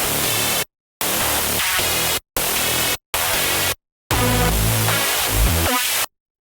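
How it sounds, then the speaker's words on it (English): Serum 2 synth noise oscillator playing its high-end noise layer alone: five bursts of bright hiss separated by short silences, the last longer and fuller with a low rumble underneath. "I'm a really big fan of the new noise generators added to the noise oscillator in Serum 2."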